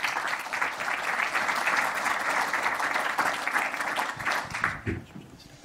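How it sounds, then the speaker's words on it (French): Conference audience applauding as the opening speakers are welcomed, a dense steady wash of clapping that thins out and fades near the end, with a voice briefly audible over it. "Vous pouvez les applaudir."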